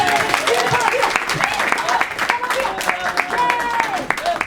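Comedy club audience at a stand-up show gives a quick round of applause, dense clapping and crowd noise running steadily throughout with voices mixed in.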